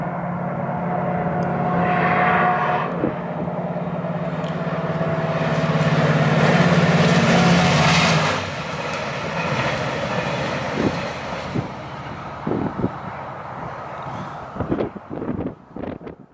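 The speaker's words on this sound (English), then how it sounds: "southbound express train number 101 came into view, making its journey from Santa Fe to Albuquerque" Southbound express passenger train No. 101 travelling from Santa Fe to Albuquerque, New Mexico rumbles past outdoors with wind noise. The roar builds to a loud, near peak, then fades into scattered clanks and rattles as the train moves away.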